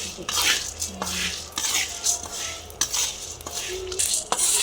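Rice and wheat grains are dry-roasted in a pan, stirred with a metal utensil that scrapes and clinks against it in close, uneven strokes over a light crackle.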